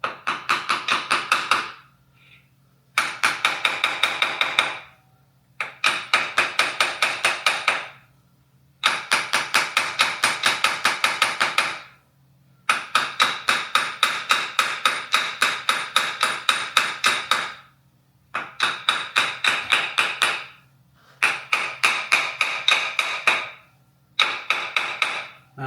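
Rapid bursts of light hammer taps ring out on the clutch of a 1979 Triumph Bonneville 750 motorcycle, close and crisp, repeating in several seconds-long runs separated by short pauses.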